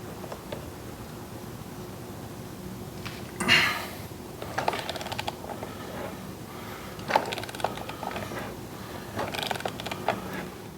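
A hand wrench works on the reverse-threaded 1 3/16-inch clutch hub nut of a Harley twin cam 110, giving close ratcheting clicks and metallic clunks, one stronger thud early, then intermittent quieter mechanical clatter.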